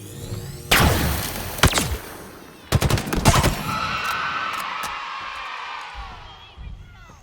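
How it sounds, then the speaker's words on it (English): Bursts of Mangler gunfire in Halo Infinite, a few sharp heavy shots early, then a rapid cluster of blasts, followed by a sustained whining energy hum and scattered distant pops. "Shooting with that mangler from that far away."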